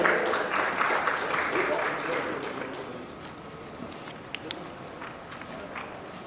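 Audience applause for a speaker at a marketing leaders' summit, loud at first and gradually thinning and fading, with a few isolated claps near the end and faint talk beneath.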